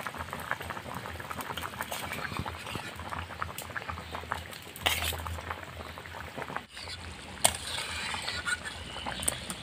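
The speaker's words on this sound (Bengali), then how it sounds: "জল ফুটে উঠেছে" A pot of water with potatoes at a rolling boil for a katla fish curry: dense, continuous close bubbling, with a faint clink of metal partway through.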